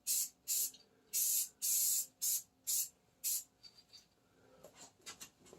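Black gloss enamel paint sprayed onto old exhaust and rear suspension parts of a Triumph Spitfire, heard as a series of about seven loud, short aerosol bursts in steady rhythm, followed by quieter handling noises.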